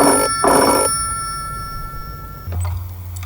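An old-style telephone bell rings loudly in two brisk bursts, then fades into a quiet room before a low hum and faint sounds follow.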